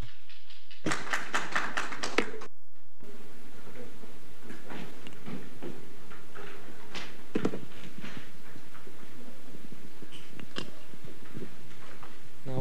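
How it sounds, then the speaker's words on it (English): Applause from a conference audience after a professor's talk at a human rights and net zero event: a steady, dense wash of clapping that follows a brief loud burst and continues at moderate volume. "Once again, a round of applause for Professor Schomerus for the wonderful insights"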